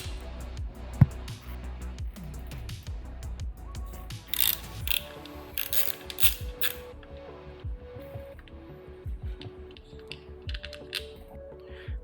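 Ratchet clicking in quick bursts as bolts are backed out of aftermarket GB Racing engine covers on a Honda CBR 600RR motorcycle, close and clear, with short pauses and a sharp knock early on and no talking.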